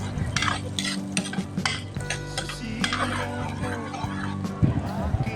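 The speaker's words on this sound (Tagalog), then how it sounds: "Isunod na rin po natin yung bawang o garlic." Garlic stirred and frying in a pan for chicken afritada, with repeated utensil scrapes and clacks over a soft sizzle and a voice speaking now and then.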